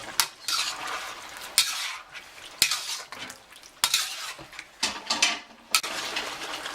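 Pepper steak with sauce is stir-fried in a pan, with repeated hard clacks and scrapes of a utensil against the metal over a softer bubbling sizzle, close and fairly loud.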